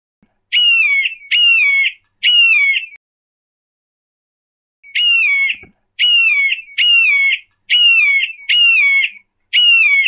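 A hawk call repeated as high, whistled, descending cries: three close calls, a pause of a couple of seconds, then a run of six more. Each is loud and clear against silence.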